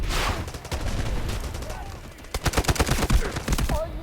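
Gunfire in the 24-versus-24 FPS video game Delta Force, dense bursts of rapid automatic shots and scattered single cracks crowding together, loud and close, with some speech mixed in.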